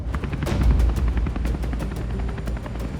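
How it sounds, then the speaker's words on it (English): A helicopter's rotor thumps in rapid, steady pulses over a heavy low roar, loud and close. "We heard the noise of the helicopter,"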